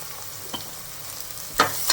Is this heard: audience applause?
no